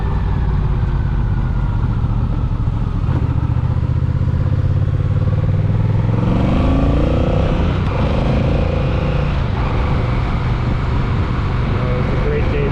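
A Honda Rebel 1100T motorcycle cruises on the road with a steady engine drone, rising and shifting in pitch under heavy wind rush, loud throughout.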